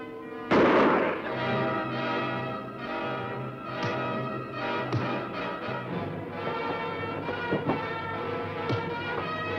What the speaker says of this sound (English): I will fire the first shot